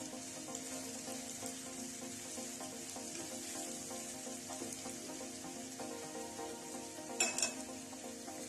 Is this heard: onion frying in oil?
yes